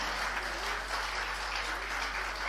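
Audience clapping steadily at a debate event, a dense, even patter of many hands sustained throughout, fairly distant and moderately quiet.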